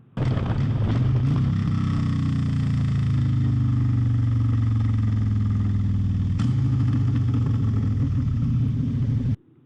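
A motorcycle engine drones steadily and close, its low rumble easing and shifting as the rider backs off the throttle, with a brief pop near the end.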